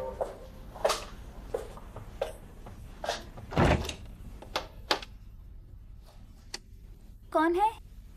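A door is opened at night in a drama scene: a series of sharp clicks and knocks, one heavier thud in the middle, and a brief voice near the end.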